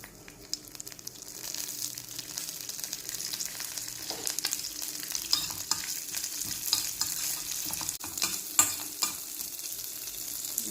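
A tempering of oil, mustard seeds, cumin and curry leaves for tomato chutney, a faint steady hiss and crackle with light irregular pops and stirring scrapes, quiet and close, without voices.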